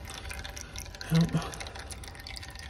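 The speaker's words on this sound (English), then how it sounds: "It's a lot of oil coming out." Engine oil drains from a John Deere 6620 combine into a bucket, a steady close trickle of liquid with brief voices murmuring over it.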